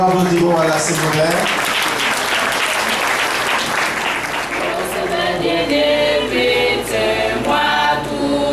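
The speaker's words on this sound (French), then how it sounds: "On l'applaudit pour la Seigneur" Applause rises at a wedding celebration as the crowd claps for the Lord, a dense steady patter running throughout, blended with singing voices and music over it.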